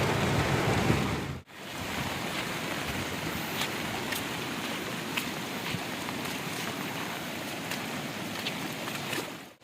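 Heavy monsoon rain pours down steadily in a dense, roaring hiss on a ghat road, loud and continuous from start to finish.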